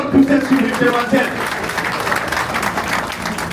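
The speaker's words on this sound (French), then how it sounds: "Pourquoi pas applaudir très très fort pour cette sublime demoiselle?" Applause at a civil wedding ceremony in Conakry, a burst of clapping from the gathered guests that rises and then continues steadily, with a voice speaking over it.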